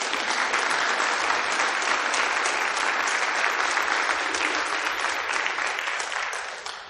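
Sustained, dense applause from an audience at a policy forum on school vouchers, green energy and open primaries, loud and steady throughout before fading slightly at the end.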